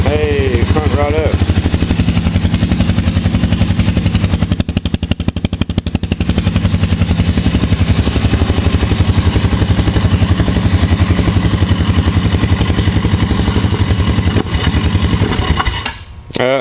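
A Suzuki Ozark ATV engine cranks continuously with a dense, rapid mechanical churning, loud and close, for most of the stretch before stopping; brief speech is heard at the start and end.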